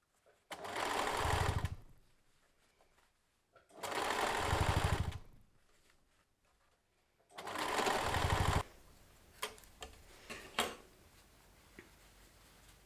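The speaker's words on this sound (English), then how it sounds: "I'm going to sew around it" Sewing machine stitching around a fabric embroidered pincushion, running in three steady whirring bursts separated by pauses, close and moderately loud, with light handling taps and clicks after the last run.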